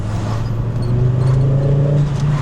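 A Volvo 850 GLT five-cylinder engine hums steadily up close with a rising, throaty rev building toward the middle, accompanied by faint mechanical clatter.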